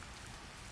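Steady heavy rain falling and pattering on surfaces, a dense continuous hiss filling the whole moment with no other sounds.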